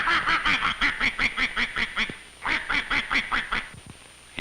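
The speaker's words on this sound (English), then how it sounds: "Yes, these ducks really take to water." Farm ducks quacking in a rapid, rhythmic series of loud nasal calls, several birds close by, pausing briefly before another burst.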